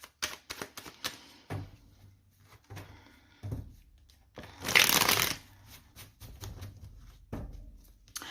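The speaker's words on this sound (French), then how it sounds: "C'est parti, on va poser 11 cartes." Tarot cards being shuffled and laid out one by one on a table, a sequence of soft, close snaps and flicks with pauses between them and a longer riffling rustle in the middle.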